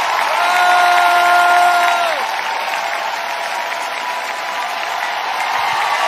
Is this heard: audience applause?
yes